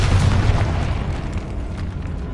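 A Confringo fire spell blast in the Hogwarts Legacy video game, a loud, deep booming explosion that rumbles and slowly tails off over a couple of seconds, with no talking.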